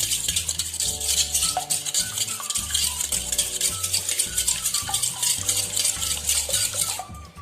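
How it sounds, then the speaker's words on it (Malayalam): Two eggs being stirred into a bread pudding mixture, repeated scraping and clinking of a utensil against a bowl in a steady rhythm, with background music playing underneath. "നമ്മൾ എടുത്ത് വെച്ചിരിക്കുന്ന 2 മുട്ട ആഡ് ചെയ്ത് കൊടുക്കാം. അപ്പം നല്ലോണം മിക്സ് ചെയ്ത് ഇളക്കാം"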